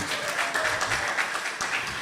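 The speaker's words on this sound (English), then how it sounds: "the applause need to be a little bit more hearty" Applause from a lecture audience fills the room, a soft, dense patter of many hands clapping at a moderate distance, steady and fairly quiet throughout.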